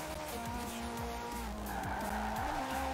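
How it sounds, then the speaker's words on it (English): A race car in a Ford versus Ferrari racing video game slides across a wet track. Tires squeal and skid steadily over a droning engine whose pitch keeps rising and dropping through the gear shifts, and the sound stays loud and close the whole time. "did that water made my car slide."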